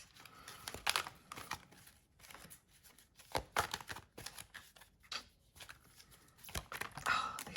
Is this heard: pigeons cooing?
no